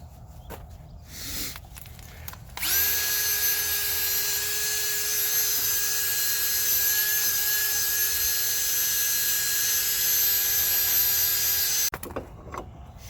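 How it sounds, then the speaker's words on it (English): A steady, loud high-pitched whine of a drill spinning a wire wheel, cleaning metal inside a Dodge Caravan wheel bearing hub area, running continuously for about nine seconds before stopping. "next we're going to take our wire wheel on a drill"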